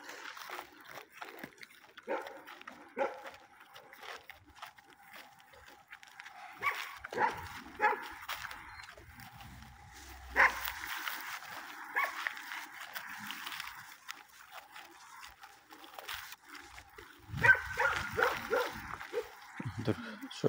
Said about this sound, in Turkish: Yemek için kavga ediyorlar köpekler de.